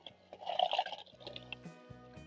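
Water poured into a cooking pot holding seared beef ossobuco, a short splashing, gurgling pour lasting under a second, followed by quieter settling drips.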